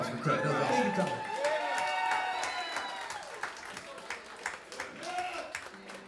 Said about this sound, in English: Give her a round of applause for Craig.